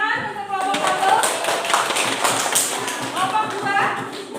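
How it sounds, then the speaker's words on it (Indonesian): A classroom of children clapping for the first group during a school lesson, a dense, lively patter of hands with children's voices mixed through it. "Tepuk tangan untuk kelompok 1"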